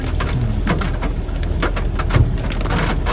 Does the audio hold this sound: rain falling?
yes